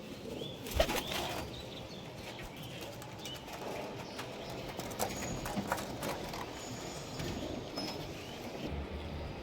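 A pigeon is released among flying and breeding pigeons in Nabadwip. Its wings give a quick run of soft flaps and clatters against a quiet, low background, with faint bird sounds around it.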